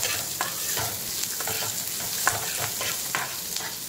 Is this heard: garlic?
yes